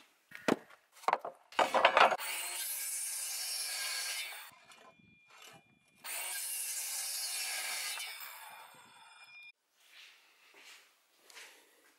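A small wooden board being sawn and sanded by hand: a few sharp knocks and scrapes give way to long, steady rasping strokes, a pause, then another sustained stretch of rubbing, close and fairly quiet.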